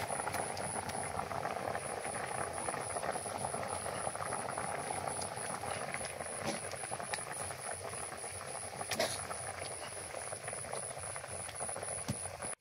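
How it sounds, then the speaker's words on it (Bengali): A curry of tilapia and taro comes to a boil in a pot, a close, steady bubbling and spitting that runs continuously under a thin high whine, with no talking. "তরকারি বলক এসে গেছে।"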